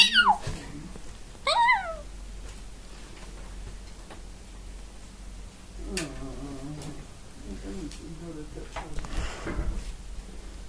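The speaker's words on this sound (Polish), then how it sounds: "Niebezpieczny kot." A cat meows a couple of times early on, close and clear, with quieter sounds and a person speaking in the background later.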